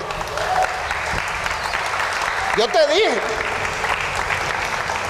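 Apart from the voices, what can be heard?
audience applause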